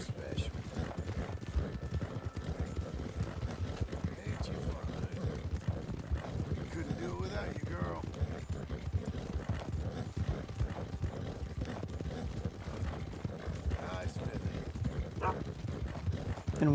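Racehorses, a Nokota and a Thoroughbred, gallop in the Red Dead Redemption 2 video game, with steady rhythmic hoofbeats running throughout and someone talking over them.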